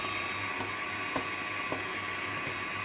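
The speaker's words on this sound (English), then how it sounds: "So that will start mixing, and then I am going to beat the rest of the eggs up" An electric mixer whirs steadily while beating egg yolks for a vanilla cake batter, a constant motor drone with faint periodic ticks as the beaters turn, close and unaccompanied by talk.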